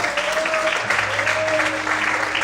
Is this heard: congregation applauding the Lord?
yes